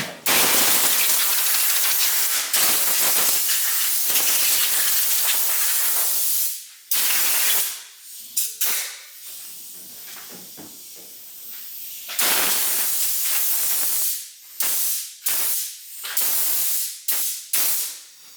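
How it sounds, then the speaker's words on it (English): Compressed air blasting dust off an old Craftsman 10-inch table saw during restoration, a loud close hiss in long sustained bursts followed by several shorter on-off spurts, with no talking. "First thing I'm probably gonna do is blow this off with some compressed air."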